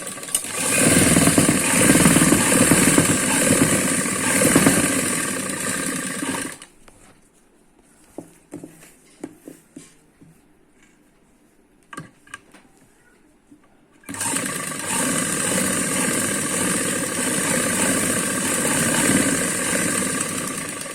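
A sewing machine stitching palazzo pants runs with a loud, steady motor whir, stops for a quiet stretch broken by a few light clicks and taps, then starts again and runs steadily to the end.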